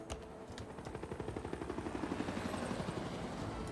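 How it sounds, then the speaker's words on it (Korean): A helicopter unit moving across the map in the strategy game Civilization VI gives off a steady, rapid thumping of rotor blades that stays loud and even throughout, with no voices. "헬기가 나왔어. 헬기 빠르게 이동해서"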